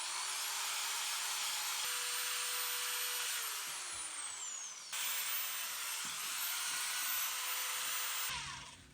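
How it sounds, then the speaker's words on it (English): A power tool with a wire wheel grinds rust off brake parts, a high whining spin that rises and falls in pitch as it stops and restarts, steady and close with no talking. "I prefer to use a wire wheel."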